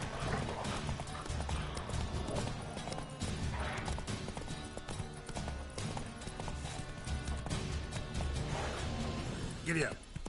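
Roach the horse gallops in The Witcher 3, a quick rhythmic clatter of hooves mixed with game sounds and a brief whinny, while a voice speaks over it at times.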